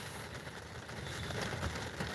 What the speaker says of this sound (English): Y'all hear the rain?